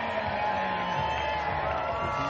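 Crowd murmur filling the stands before a Rainmakers game at Dogfish, a steady dense hubbub at moderate volume with scattered voices and no distinct cheers.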